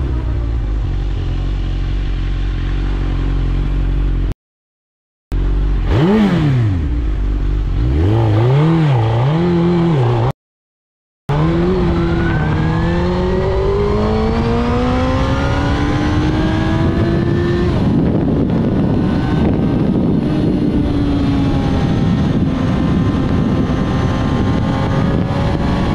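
A motorcycle cruises through a residential neighborhood while a police car tries to pull it over, its engine droning steadily with rising and falling revs and gear changes, loud and continuous under wind rush, with brief silent gaps.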